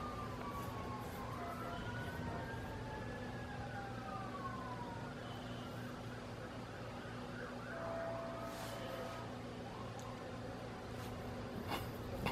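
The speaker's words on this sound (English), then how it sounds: "emergency sirens aside" Emergency vehicle sirens wail faintly in the distance, rising and falling over steady, dense background noise with a low hum, with no voices present.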